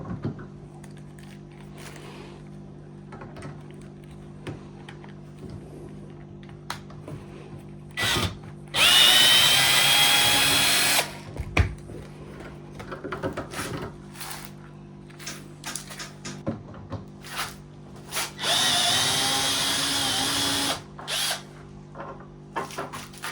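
A power drill unscrews screws from a wall where a bed crown hangs, two long whirring bursts of driving with short bits and clunks of handling between them, close and loud in a quiet room.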